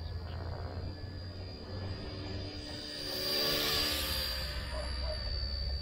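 XK K160 RC helicopter with a brushless motor flying nearby, a steady whining motor hum with a whooshing rotor rush that swells louder midway through.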